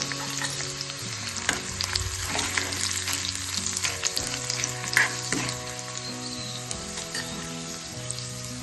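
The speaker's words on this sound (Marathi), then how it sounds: "त्यामध्ये मी ही सुकलेली लाल मिरची टाकून घेतली। ही साधारण अर्धा मिनिट परतून घ्यायची मस्त।" Garlic and dried red chilies fry in hot oil, giving a steady bright sizzle with occasional stirring scrapes and small pops, close and continuous with no talk.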